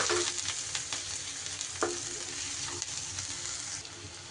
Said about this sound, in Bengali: একটু হালকা করে পেঁয়াজটা ভেজে নিয়ে পেস্ট করে রাখা সয়াবিনটা আমি দিয়ে দিলাম